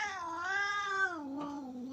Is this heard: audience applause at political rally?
no